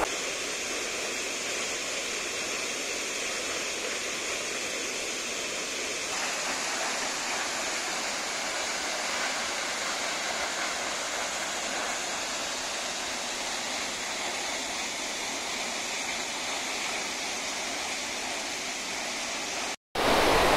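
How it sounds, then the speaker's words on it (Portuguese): Steady roar of a waterfall in Analândia, São Paulo, Brazil, dense broadband rushing water filling the whole clip at constant loudness, close by, with no voices. "olha que cachoeira incrível!"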